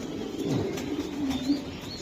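Racing pigeon chick from a club loft cooing softly and steadily, with low, continuous coos and faint chirps, close by and without talk.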